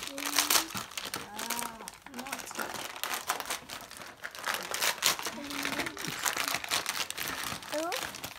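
Christmas wrapping paper crinkles and tears in bursts as a present is unwrapped, close and busy throughout, with excited voices and a child chattering over it.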